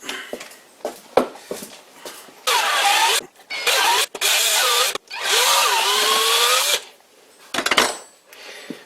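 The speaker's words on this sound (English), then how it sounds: "I'm gonna get a bigger drill bit." A power drill fitted with a larger bit bores into wood in several bursts of whining motor noise, loud and close, separated by short pauses and handling clatter.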